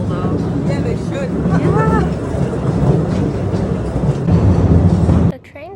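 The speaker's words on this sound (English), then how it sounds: "The train takes you deep into the cave" A low, steady rumble of a tourist train moving through Postojna Cave, with voices talking over it, cutting off abruptly near the end.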